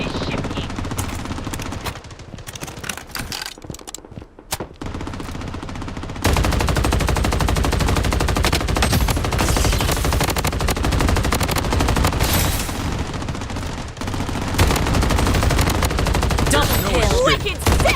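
Rapid bursts of automatic gunfire from a video game, dense and loud through most of the stretch, with a quieter patchy start before sustained firing takes over; a voice speaks faintly underneath.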